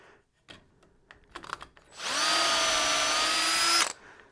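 A few knocks and handling sounds, then a power drill whines at full speed for about two seconds, boring steadily into wood for a wooden chisel box before spinning down.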